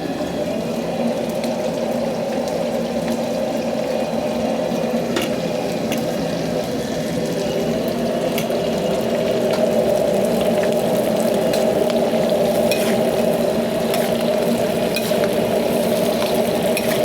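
Salted egg yolk shrimp fry in a wok at a wok station over high heat, giving a steady, loud sizzle and roar that continues unbroken without talk.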